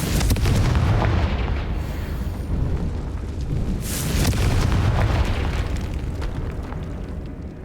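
A Confringo fire spell goes off in a catacomb in Hogwarts Legacy, a deep rumbling blast that swells and rolls on for several seconds with a second surge midway, loud and booming, with no voices over it.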